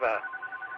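A telephone rings on a radio repeater net, with steady ringing tones running behind a brief burst of talk at the start.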